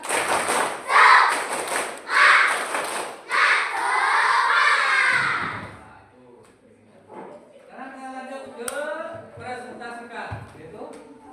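Schoolchildren in a classroom shout a spirit clap chant, loud rhythmic claps and chanted bursts in the first half, then quieter scattered voices and talk take over.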